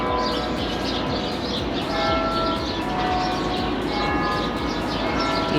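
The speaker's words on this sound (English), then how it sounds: "You hear those church bells?" Church bells of San Fernando Cathedral in downtown San Antonio peal a couple of blocks away, a steady ringing rhythm carried over outdoor city ambience along the Riverwalk, moderately loud and continuous.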